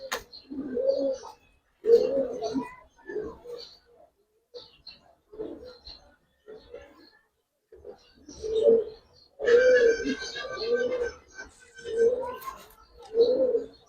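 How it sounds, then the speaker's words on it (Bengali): Colouring Giribaz pigeons coo in soft, low, rolling bursts that repeat every second or two, close by, with faint chirps and light rustling between calls and no talking. "দেখাই রে ভাই, কালারিং কবুতর।"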